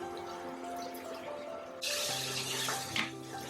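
Mosambi juice poured into mutton biryani: a close, hissing pour that starts partway through and runs to the end, over a faint steady hum.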